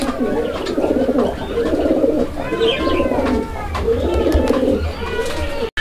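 Lahori pigeons coo in a low, rolling rhythm, several birds close by and fairly loud with repeated throaty phrases and a few brighter chirps over a steady background murmur.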